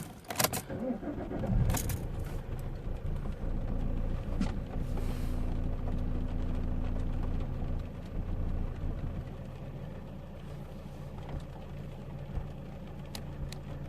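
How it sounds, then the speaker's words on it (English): A Vauxhall Insignia starts up after some brief key and ignition clicks, the engine cranking and catching, then settling into a steady close idle that eases slightly quieter toward the end. "It's gonna start the engine this time."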